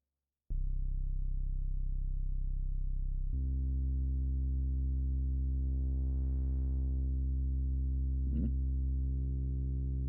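A steady synth tone runs through the Basal filter module in VCV Rack, buzzy and harmonically rich. It drops in pitch partway through, then a filter sweep rises and falls, with a short glitchy click near the end.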